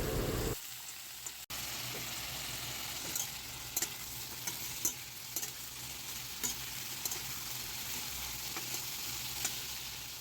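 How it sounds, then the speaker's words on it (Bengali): Potato and pointed gourd pieces fry in oil with a steady sizzle, broken by occasional clicks and scrapes of a spatula stirring the pan, with no one talking. "আলু পটলটা ভালো করে একটু ভেজে নিতে হবে"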